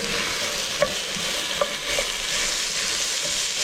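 Onions hitting hot olive oil alongside serrano pepper, a steady broad sizzle with a few sharp spatula clicks against the pan at intervals, close and fairly loud with no voices.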